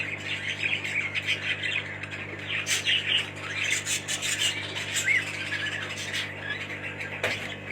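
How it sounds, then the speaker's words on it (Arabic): An aviary of cockatiels and finches, including Isabella and Abyssinian birds, chirps and squawks continuously with a busy overlapping chatter of calls over a steady low hum, no talking. "بفضل الله تشكيلة عصافير،"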